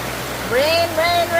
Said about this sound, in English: rain, rain, rain. It says all day today.